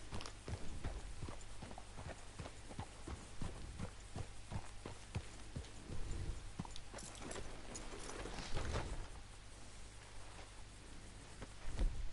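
Horse hooves clip-clopping at a steady walk in the Red Dead Redemption 2 video game, a continuous close rhythm of hoofbeats over a low ambient drone with no talking.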